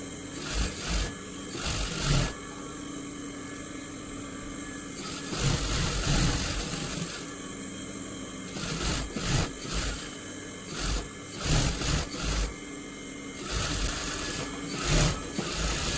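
Sewing machine stitching a blouse sleeve in rapid bursts of mechanical clatter, runs of stitching separated by short pauses, close and fairly loud.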